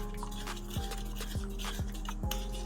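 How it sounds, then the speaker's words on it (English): A smooth tamarind mixture for meatball sauce being stirred in a pot, with soft swishing and several light scrapes and taps of the utensil against the side, close and quiet. "So I mix it out, make sure it's smooth."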